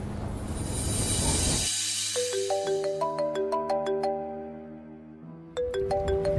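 A phone ringtone plays a bright, repeating melodic tune, loud and close, starting after a burst of background noise and briefly breaking off before resuming.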